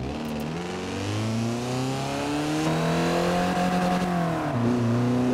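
A car engine in Forza Horizon 4 revs up through a gear while driving, its rising, buzzy tone climbing steadily, dipping at a shift and climbing again, loud and continuous with no talking.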